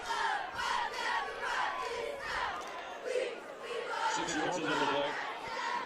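Homecoming and senior night crowd at a Salem high school football game, a loud, steady roar of many voices shouting and cheering across the stands for the full stretch, swelling slightly near the end.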